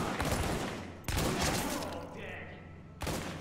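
Gunfire in The Division shooter game comes as loud, close volleys: one burst at the start, another around one second that fades into a lingering tail, and a third near the end, with voices speaking under it.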